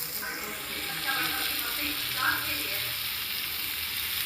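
Spices and about two spoons of tomato sauce frying in a pan for a Bengali-style chicken dish, giving a steady hissing sizzle with faint stirring scrapes, close and unbroken by speech.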